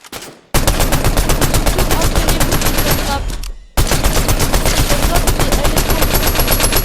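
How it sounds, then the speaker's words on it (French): Sniper rifle fire in a first-person shooter video game, heard as dense, loud, continuous gunfire bursts that fill the clip, broken by one short pause partway through. "J'essaye quand même de tirer au snipe."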